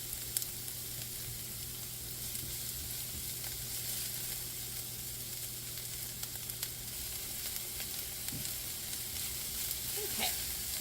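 White onion sautés in a skillet, a dense, even sizzle that holds steady throughout at moderate level, with faint scattered pops and no talking.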